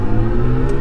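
A BMW i5 M60 electric sedan accelerating hard, heard as a loud, steady high electric motor whine with rising tonal hum over road rumble, close and alone in a brief burst.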